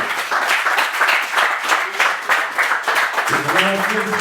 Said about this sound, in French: des applaudissements indispensables